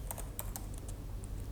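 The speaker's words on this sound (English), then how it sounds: "For that, we will type in Liquid Crystal" Quick, light clicks of someone typing code on a computer keyboard, a steady run of soft keystrokes against a low background hum.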